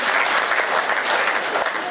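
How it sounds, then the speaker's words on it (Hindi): Dense, loud applause from a crowd at a Hindi comedy poetry gathering, a continuous wash of clapping that stays steady throughout. "अरे ताली बजाओ, ताली बजाओ"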